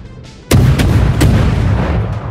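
Naval cannon salvo in the World of Warships video game: a sharp loud boom followed by a few quick successive shots and a rumbling tail, close and without talk.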